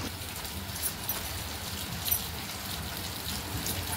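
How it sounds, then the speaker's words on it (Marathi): Heavy rain pours down outside a home kitchen, a steady dense hiss of drops with faint patters on surfaces and no one talking. "बाहेर मस्त असा पाऊस पडतोय"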